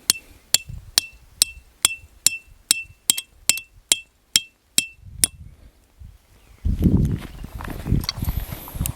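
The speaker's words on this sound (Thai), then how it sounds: "ใช้สมอ ใส่เข้าไปที่ตรงมุมนี้ แล้วก็ตอกลงไป" Tent stakes for a pyramid tent are hammered into hard ground: about fifteen sharp, evenly spaced metallic strikes ring close and loud, then give way to rustling handling noise.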